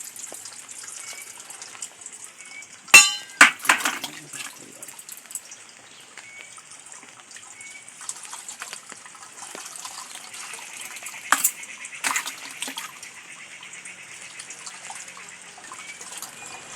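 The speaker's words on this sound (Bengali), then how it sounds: "ভালো করে জল দিয়ে 3-4 বার করে ধুয়ে নেবো" Water trickling and splashing as chhana (cheese curd) is rinsed by hand for rasgulla, with a few sharper sloshes early on and softer running water throughout, close and moderately quiet.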